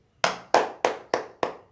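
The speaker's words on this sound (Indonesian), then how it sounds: "tepuk tangan dulu semuanya" A classroom of students claps in unison, six sharp, evenly spaced claps ringing out clearly in a small room, with no talking.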